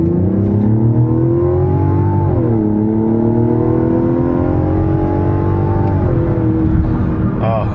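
The turbocharged inline-six hybrid engine of a 2025 Mazda CX-70 Turbo S Premium Plus hums loudly and close, with its pitch rising, dipping and climbing again as it revs, in a smooth, even drone.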